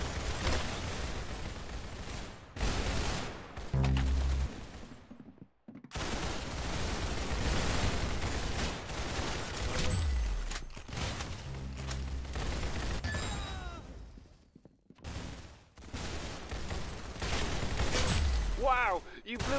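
Repeated bursts of gunfire from the video game Arsenal, rapid volleys separated by short pauses, with voices heard at times.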